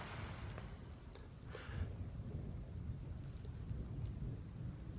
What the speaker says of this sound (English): Snow and thunder at the same time.